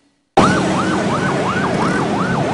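A Pakistani ambulance siren starts suddenly after a short silence and wails loudly and close by in a fast, regular up-and-down cycle.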